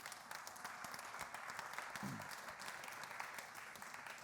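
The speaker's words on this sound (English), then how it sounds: "Give her a big round of applause" Conference audience applauding a volunteer called up on stage, steady dense clapping throughout, moderately loud with a brief murmur of voices partway through.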